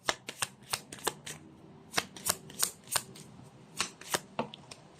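Tarot cards are shuffled over and over in sharp, papery riffles and bridge-like bursts, each one a crisp rattle with short pauses between, close and alone with no talking.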